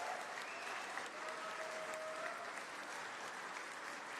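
An awards-show audience gives a steady round of applause for a musical ensemble, dense and sustained, with no talk over it.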